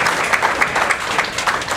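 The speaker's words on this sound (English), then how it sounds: "Everybody give her a big round of applause." An audience at a diabetes-reversal workshop claps for an award winner honored for attending six or more sessions, a brief burst of steady, moderately loud indoor applause from a small crowd.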